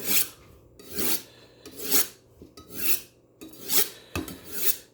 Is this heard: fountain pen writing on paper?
no